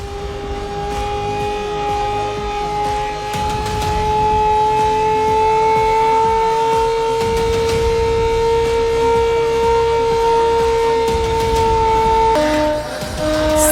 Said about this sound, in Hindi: सायरन बजा